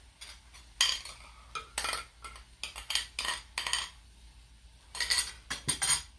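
Metal cutlery scraping and clinking against a plate while rice is served in a kitchen, a series of short, close, irregular chinks and scrapes separated by brief quiet gaps.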